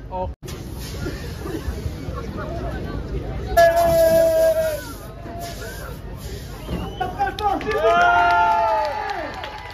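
Crowd applause and cheering at a French motocross championship podium, moderate clapping and crowd noise beneath a loudspeaker announcer who talks throughout.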